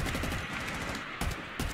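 Rapid video game gunshots crackle in a dense, continuous burst, with a couple of sharper bangs near the end.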